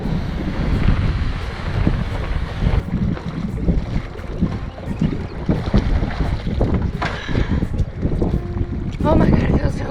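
Wind buffets the microphone on open water during a kayak or canoe paddle with a tailwind, a steady rushing roar with splashing waves and boat noise throughout.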